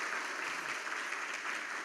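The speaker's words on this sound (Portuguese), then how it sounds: "Uma salva de palmas para o Rotildo, Samuel e Fernanda." A church congregation at a Sunday communion service gives a short burst of applause, with soft, even clapping that is fairly faint and sounds somewhat distant.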